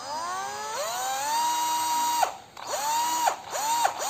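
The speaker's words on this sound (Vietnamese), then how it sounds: "Con này là một cái con khoan tua chậm nha, đầu kẹp không rơ lắc" A low-speed cordless drill with a 10 mm metal chuck runs in repeated bursts, its whine rising as it spins up, holding steady, then cutting off, close and loud with no talk.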